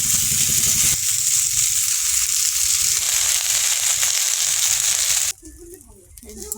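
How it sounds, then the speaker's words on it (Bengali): Neem leaves fry in hot oil with a dense, crackling sizzle that holds steady for several seconds, then cuts off abruptly near the end, leaving only faint kitchen clatter. "নিম পাতা ভাজা হয়ে গেছে এবার নামিয়ে নেব"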